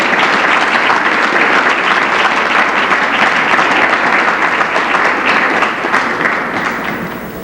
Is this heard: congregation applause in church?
yes